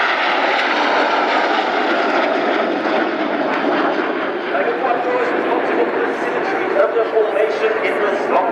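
Patrouille Suisse jet aircraft fly at the Royal International Air Tattoo air show with a continuous, loud roar that swells slightly, while a commentator speaks over it the whole time.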